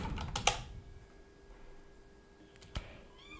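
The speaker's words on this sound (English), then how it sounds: "click on the search box and type here easy updates manager" A computer keyboard is typed on in short bursts to enter a WordPress plugin name, a few close, crisp key clicks with quiet pauses between them and no talking.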